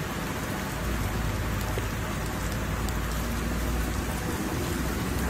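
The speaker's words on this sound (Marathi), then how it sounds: "बोईसर एमआयडीसी मध्ये जोरदार बारिश म्हणजे पाऊस" Heavy monsoon rain pours steadily in Boisar MIDC, Maharashtra, a dense, loud, unbroken hiss of drops hitting roads and surfaces close around, with no talk heard.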